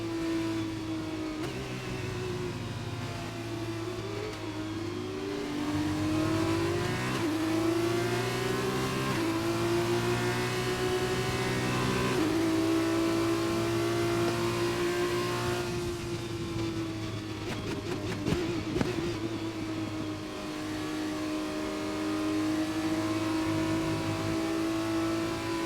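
Formula 2 race cars circle the British track in a racing video game, a steady droning engine with rising and falling pitch as cars rev and pass, loud and continuous with no talk.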